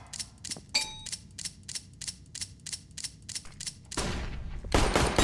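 Pistol fire at targets on a CS:GO weapons course, a steady run of evenly spaced crisp shots with no voices, ending in a louder, denser burst of noise.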